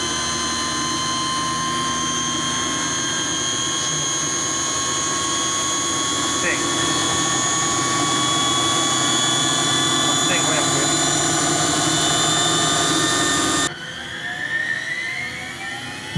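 An Eliica, a Japanese electric supercar, with its motor spinning up to a steady high whine, its tonal lines rising above a broad continuous roar, loud and close before it cuts off abruptly near the end.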